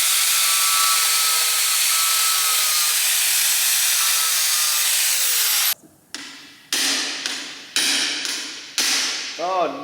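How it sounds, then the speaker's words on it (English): An impact extractor bit is struck with a hammer to drive it into a bolt on an SR20 engine block. A steady loud rushing noise gives way to about six sharp, close strikes at irregular intervals, each ringing briefly before fading. "you hit them with a hammer and they put twisting force on it whilst you smack it inwards"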